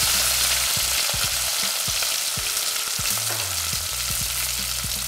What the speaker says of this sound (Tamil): இந்த வெங்காயமும் பூண்டு நல்லா வதங்குற அளவுக்கு வதக்கி விட்டுக்கோங்க